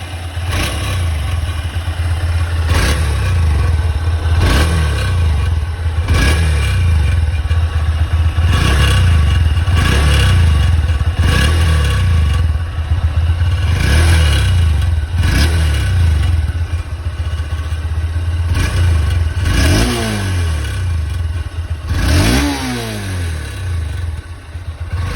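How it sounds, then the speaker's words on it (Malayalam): A Honda CB200X with about 20,000 km on it revs repeatedly, roughly a dozen rising surges over a steady idle, with a metallic rattle from the silencer on each rev, close and loud. "ഒരു സൈലൻസറിൻ്റെ ഭാഗത്ത് നിന്ന് എന്തോ ഒരു ചിലമ്പടിക്കണ പോലത്തെ സൗണ്ട്."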